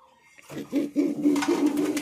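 An Indian Loton fancy pigeon coos close by in a steady series of low, throaty pulses, one after another, with a faint background voice early on.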